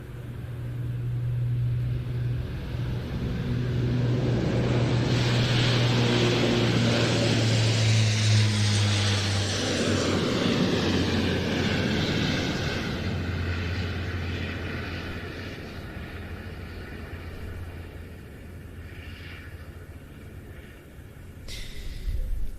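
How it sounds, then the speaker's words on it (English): An Italian Air Force C-130J turboprop arriving at an air show, a droning engine hum with steady low tones that swells loud mid-pass, then fades into distant rumble. "Here goes the Italian C-130J."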